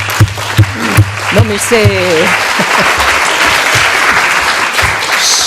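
Audience applause at a talk on reducing inequality in early childhood, a few scattered claps first, then dense sustained clapping from the crowd under a brief spoken remark.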